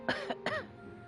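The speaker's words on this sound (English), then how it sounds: "your vape makes me cough sometimes when it blows my way" A person coughs twice in quick succession, close and fairly loud, irritated by drifting vape smoke, with no talking.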